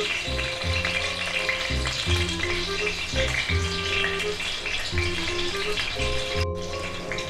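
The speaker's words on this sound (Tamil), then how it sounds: "சிம்மில் வச்சு நம்ம ஃப்ரை பண்ணுவோம்" Cheese balls fry in a pan over a low flame, a continuous sizzle with rhythmic low bumps from stirring and moving the balls, close and fairly loud.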